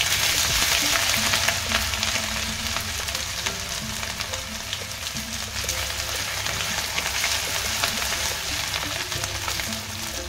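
Garlic and ginger paste fries in fish oil, crackling and sizzling loudly and steadily with scattered sharp pops, continuous throughout and without any talking.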